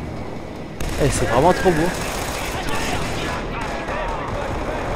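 Booming explosions and rumbling blasts from the PS3 game Killzone 3 roll out while someone talks excitedly over them.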